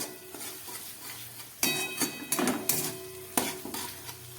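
Spice masala with green and red chillies being stirred and sautéed in a pan, soft sizzling under sharp scraping clinks of a spoon against the metal, with a few louder strokes.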